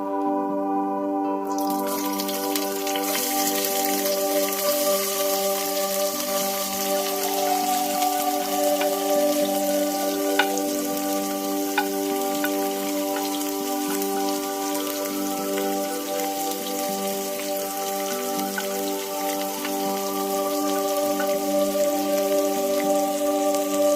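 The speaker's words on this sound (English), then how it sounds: "Next, we're going to be adding in the onions and the green chilies." Onions and green chilies sautéing with spices in one pot for a shrimp biryani, a steady close sizzle and crackle that holds level from start to finish, with a faint tonal hum underneath and nobody speaking.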